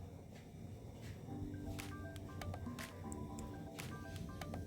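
Raw yam pieces washed by hand in water to rinse out starch, with close wet squishing, dripping and splashing that continue steadily throughout.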